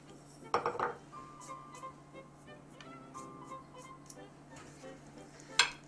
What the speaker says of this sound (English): I'm going to mix all that together.